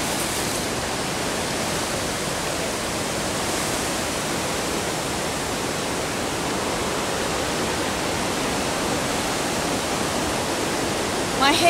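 Wind roaring through trees during a storm at Mount Keira, a continuous broad rushing wash that stays steady and fairly loud throughout, with no talking over it.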